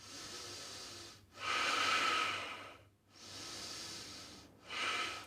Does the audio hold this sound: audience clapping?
no